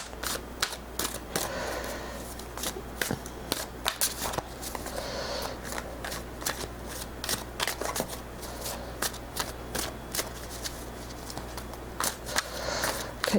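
A deck of tarot cards is shuffled repeatedly at close range, crisp riffling bursts and flicks in a loose rhythm over a low steady hum.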